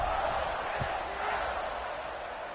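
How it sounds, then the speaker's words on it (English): Crowd at a football stadium during a UCF vs Ole Miss game keeps up a steady, loud, broadband buzz, with no single voice standing out. "this crowd is buzzing after that last score"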